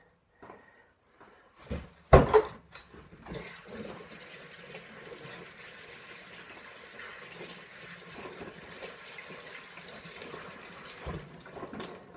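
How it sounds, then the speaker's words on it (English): A kitchen tap runs steadily while hands are rinsed of feathers during the cleaning of a mallard duck. A few knocks and a splash come first, then a continuous even stream of water pours for about ten seconds. "Sometimes you just got to rinse your hands because you get so many feathers."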